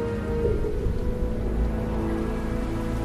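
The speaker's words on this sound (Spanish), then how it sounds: "la lluvia ácida los está abrasando" Acid rain pours down steadily in a prehistoric setting, a dense, even hiss of falling drops on the ground with a low rumble underneath, continuous and fairly loud throughout.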